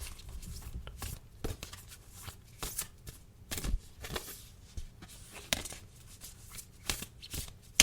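Tarot cards are shuffled in a quick, close riffle of soft, papery flicks and taps in uneven bursts, fairly quiet, with no voice over it.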